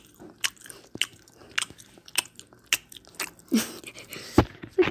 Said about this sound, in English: If you can hear me chewing